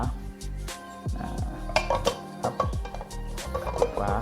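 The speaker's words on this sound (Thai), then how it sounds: "วางใบมีดแล้วก็ปิดฝา" Blender blade being set in place and the lid closed, giving a series of hard plastic-and-metal clunks and clinks at close range over a low background hum, with no talking.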